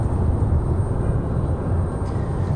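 A Southwest airliner taking off from runway 23 left at Raleigh-Durham International Airport, a steady loud low jet engine roar that stays constant without clear rise or fade.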